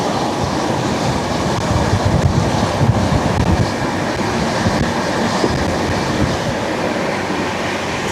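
The Padatik Express, train 12378 from New Jalpaiguri to Sealdah, runs steadily at night around a curve, heard from on board as a continuous broadband rumble and rush of wind with a faint underlying rattle and no voices.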